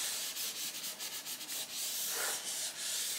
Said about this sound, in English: You have to have a shirt to rub it.